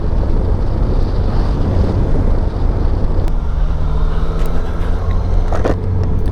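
A sports tourer motorbike is ridden at steady speed in sixth gear. Loud, constant wind roar buffets the microphone over a low engine drone for the whole stretch.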